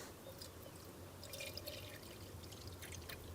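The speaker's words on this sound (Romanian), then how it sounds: "Eu mi-am pregătit fix 500 de ml de apă, pe care o să-i introduc direct în fierbător." Half a litre of water pours from a container into an electric kettle. It makes a faint, steady trickling with scattered splashy drips, set against low background hum.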